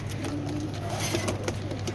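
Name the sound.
Pakistani high flyer pigeons cooing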